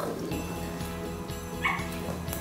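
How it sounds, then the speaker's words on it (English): A dog gives a short bark, distant, amid indoor background noise. "Oh, that was a dog barking."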